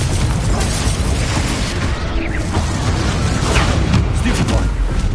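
Confringo fire spell blasts in Hogwarts Legacy on PS5, with repeated booming bursts over a dense, continuous layer of game effects and music.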